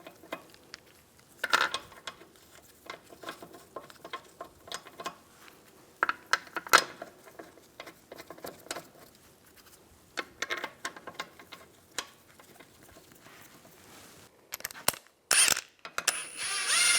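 A ratchet snugs lug bolts onto the rear wheel of a 1998–2010 Volkswagen Beetle, with scattered metallic clicks and clacks arriving in uneven bursts and a couple of sharper knocks near the end, all fairly close and without talk.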